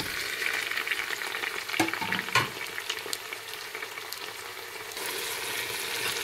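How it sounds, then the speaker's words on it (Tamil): Tomatoes and onions sautéing in a pan for prawn biryani give a steady, close sizzle with brief stirring clatters partway through and no voices. "தக்காளியும் நல்லா வதங்கிடுச்சு."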